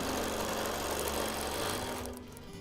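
A sewing machine runs steadily while stitching quilting lines, a close, continuous mechanical whir that cuts off near the end and leaves quiet room sound.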